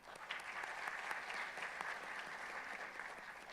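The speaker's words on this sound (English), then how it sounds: "I mean, really clap for that." Audience applause at an induction and orientation programme, a steady spell of clapping from a room of people, fairly faint and even throughout with no talking over it.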